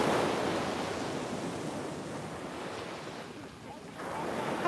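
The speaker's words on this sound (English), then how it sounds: "I know the waves sound amazing, Naomi." Ocean surf washes in as a steady broadband roar, swelling and easing slightly with a brief dip near the end, close and fairly loud with no voices.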